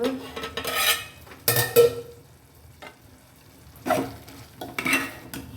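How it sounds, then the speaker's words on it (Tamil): Vegetables and double beans sizzle softly in a pan on medium heat, interrupted by a few bursts of stirring and scraping with a utensil. "கொஞ்சம் வதங்கட்டும் இந்த தண்ணி கொஞ்சம் ட்ரை ஆகட்டும்"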